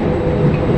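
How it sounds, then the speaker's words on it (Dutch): A regional stopping train travelling through Italy, a steady low rumble of carriage and track noise heard from inside, even and continuous with no voices. "En we hebben nu dit keer een stoptrein."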